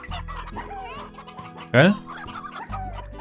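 Slime Rancher chickens clucking in the game, a clear cluster of clucks near the middle of the clip amid game music and someone talking.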